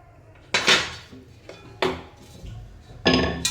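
A metal lid is set onto a pot of stuffed varan phal left to steam. Three sharp clattering clanks sound close by with short pauses between them, and no one speaks.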